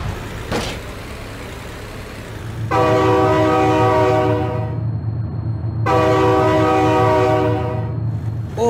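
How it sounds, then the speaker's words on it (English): In the BeamNG.drive driving game a train sounds two long, loud, blaring horn blasts while rumbling close by. A brief thump comes before the horns and a steady low rail roar continues under them, with no talking. "Oh my god, train!"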